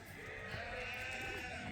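Several sheep bleat outdoors in cold weather on a sheep farm, a faint, steady chorus of calls at moderate distance with no talking.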